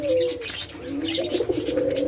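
Close, low rolling coos from a caged dove, a steady throaty call repeating with no voices over it.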